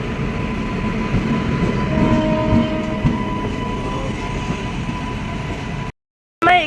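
A steady, loud rumble of an express train rolling along the rails toward Bolpur Shantiniketan with a rhythmic clatter, then an abrupt cut to silence near the end.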